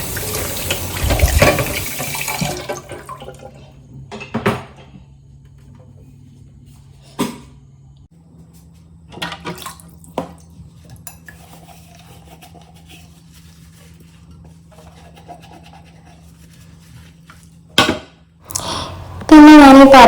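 A tap runs steadily into a kitchen sink while dishes are washed, a low constant stream broken by occasional clinks and knocks of plates and a louder splash near the end.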